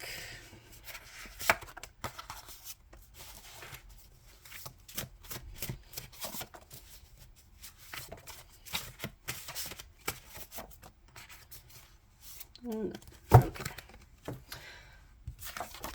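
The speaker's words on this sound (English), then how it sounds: "Just gonna shuffle them all out" Soft, rapid riffling and tapping of tarot cards being shuffled close by, in repeated bursts with brief pauses.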